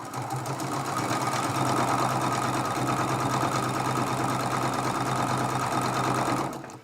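A sewing machine hums in one continuous, even run while stitching a Dresden Plate quilt block seam, loud and close with no speech.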